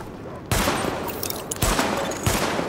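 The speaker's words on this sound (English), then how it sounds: "Open fire at the highlighted targets." Gunfire at highlighted targets in The Division, with dense bursts of shots that start sharply and repeat in rapid volleys over a steady roar, loud and close.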